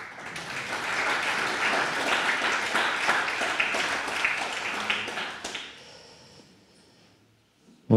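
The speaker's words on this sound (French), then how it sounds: "on peut applaudir mes deux trésoriers" Audience at an association's general meeting applauding the two treasurers, a sustained round of clapping that fades out after several seconds into near quiet, ending on a sharp knock.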